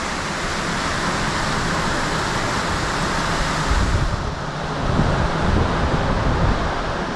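Wind roars steadily while a Lagoon 43 catamaran sails fast downwind near Malaga, a loud continuous rushing hiss with no one talking.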